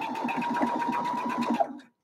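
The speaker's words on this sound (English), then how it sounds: "My machine is automatically locking that stitch at the beginning and at the end of my" A sewing machine runs a short seam at a steady, rapid stitching rhythm with a whining motor tone, close and alone, stopping abruptly near the end.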